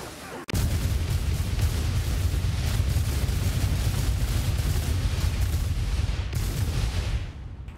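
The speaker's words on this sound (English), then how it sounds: "one of the more successful explosions I've managed to pull off in recent history" A huge video-game explosion erupts abruptly and keeps rumbling as a dense, loud, continuous roar of booms and crackling blasts for several seconds before tapering near the end.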